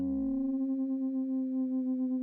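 Synthesizer oscillators producing sine waves for hypnotic techno: a single steady pure tone held close and clear, with a faint slow wobble from two waves tuned very near each other, after a brief low onset and without talk.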